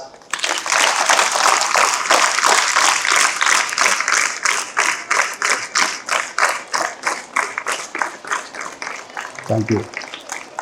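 A room of students claps for the teachers, beginning as a loud, dense burst of applause and thinning into slower rhythmic clapping that fades toward the end, with a brief voice near the close.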